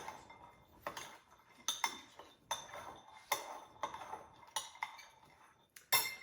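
A utensil clinks and scrapes against a bowl while a topping is stirred, giving a quiet, close series of irregular metallic taps and chinks with short pauses between strokes and a sharper clink at the end.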